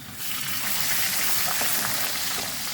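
Water pours steadily into a hot pan of roasted vermicelli for semiya upma, a broad rushing hiss with a faint sizzle, continuous and close for a few seconds with no talking.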